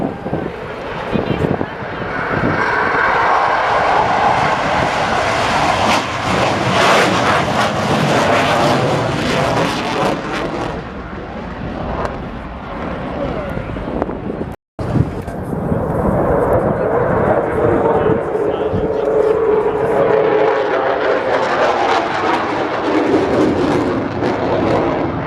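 A Eurofighter Typhoon at an air display at RIAT 2024 roars past, a loud sustained jet engine sound that swells, cuts briefly, then returns as a rolling wave of noise with wind buffeting.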